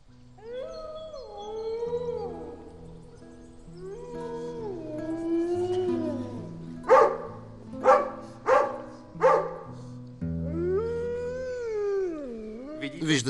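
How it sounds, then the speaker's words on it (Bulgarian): A dog howls in a drawn-out, singing manner, its wavering tones rising and falling over orchestral music, with several louder yelps or barks in a quick run midway and another long howl near the end. "Научих кучето да пее."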